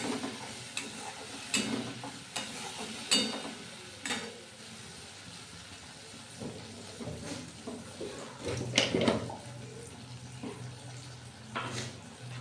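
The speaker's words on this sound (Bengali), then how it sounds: "এরপর আদার সাথে কাঁচা লঙ্কার সাথে ভালোভাবে এটা নেড়ে চেড়ে মিশিয়ে নিচ্ছি মশলাটা" Tomato puree being stirred in a pan with ginger and green chilli, a soft steady sizzle broken by repeated scraping strokes of a spoon, with a short louder clatter near the middle.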